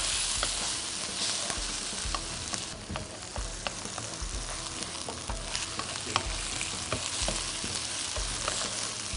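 Shrimp stir-fried with shallots in a hot pan, with a loud continuous sizzle and a rhythm of repeated spatula scrapes and clanks against the metal, close up and with no voices.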